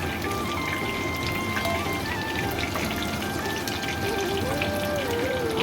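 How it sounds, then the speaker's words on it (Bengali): Chicken kofta deep-frying in hot oil, a steady dense sizzle and crackle of bubbling oil with no let-up, close and fairly loud. "এবার এইভাবে সম্পূর্ণ ভেজে নিই"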